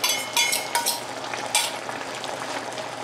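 Egg being stirred into simmering tilapia sarciado sauce in a home kitchen, a steady close sizzle with sharp utensil scrapes and taps against the pan.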